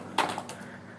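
A few quick clicking keystrokes on a computer keyboard as a command is entered, close and brief, with no talking.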